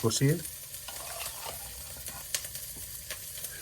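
Chicken pieces stirred and sautéed in a pan for a curry, with scraping stirs and a steady soft sizzle, no voices.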